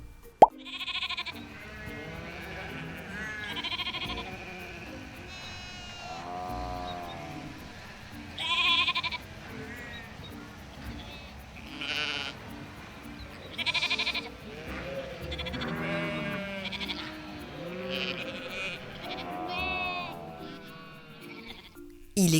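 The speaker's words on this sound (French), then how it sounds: "Le prochain animal est le mouton." Sheep on a farm bleat repeatedly, with several wavering calls that rise and fall at irregular intervals. The bleats range from near to moderately distant, and some overlap, with no talking between them.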